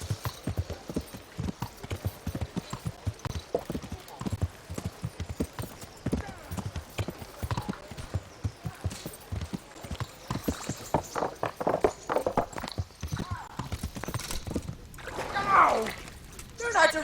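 Horse hooves clip-clop steadily on a path in the medieval role-playing game Kingdom Come Deliverance, a brisk repeated rhythm running throughout, with voices talking over the hoofbeats and a brief whinny near the end.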